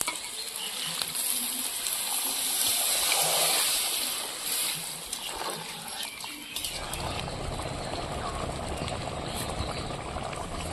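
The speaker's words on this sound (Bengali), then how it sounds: "তো অল্প পরিমাণে জল দেব।" A small amount of water is poured into a pan of prawn curry as it cooks, giving a close splash and sizzle that settles into a softer bubbling simmer; no one speaks.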